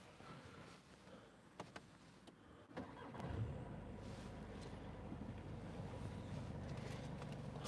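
A VW Passat Highline 2.0 TDI 110 kW diesel starts after a short crank around the three-second mark, then settles into a steady, close idle rumble with some wind noise on the microphone.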